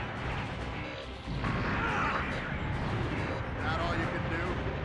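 Gunfire and blasts from shooting enemies in a Gundam space battle video game, a dense, continuous roar of shots and explosions throughout, with voices speaking over it.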